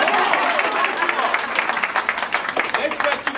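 Audience applause for a sponsor at a women's shooting event, a dense, steady wash of clapping from a crowd that carries on for a few seconds, fairly loud and close, with some voices mixed in underneath.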